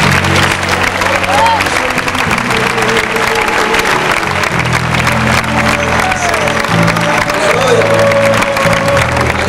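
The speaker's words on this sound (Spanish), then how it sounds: "Primero un aplauso por esta victoria para el Señor." A church congregation applauds at an evening service, a dense, loud, sustained wash of many hands clapping throughout, with voices and faint cheering mixed in.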